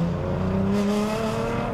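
A warmed-up Nissan GT-R accelerates hard, its engine note climbing in a loud, close, sustained rising drone with no talking over it.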